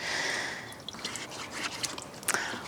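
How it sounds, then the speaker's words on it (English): Water drips and trickles off a car tire on a Toyota 4Runner TRD Pro after washing: a faint hiss at first, then scattered, irregular close drops and small splashes in a quiet setting. "now the water's just falling off the tire"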